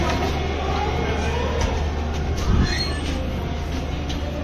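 A new Indian Railways train running, with a steady loud rumble of wheels on track, rattling carriage noise and a faint squeal, continuous and close throughout.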